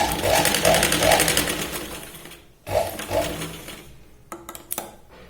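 Sewing machine stitching tucks on a katori blouse, a loud close whirring hum in two runs separated by a short pause, followed by a few handling clicks.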